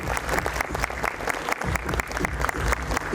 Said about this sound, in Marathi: सर्वांनी एकदा मुलांसाठी जोरदार टाळ्या वाजवायच्या